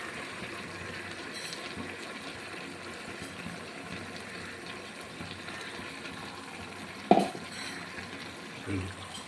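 Ginger, garlic, onion and green chili paste frying in a pan for hariyali chicken, a steady low sizzle with stirring scrapes and one sharp clank near the end.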